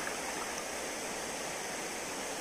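A cold river stream flows with a steady, full rushing hiss at close range, heard alone with no talk.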